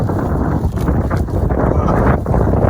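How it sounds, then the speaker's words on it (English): Strong wind buffets the microphone in loud, continuous low rumbling gusts with no pause. "she's windy out here this morning."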